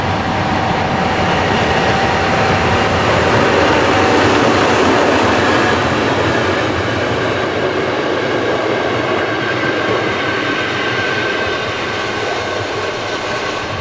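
Train hauled by locomotive 211 073-2 departing Engelsdorf near Leipzig, a steady loud rumble of rolling wagons and wheels with faint clickety-clack, continuous throughout with no talking.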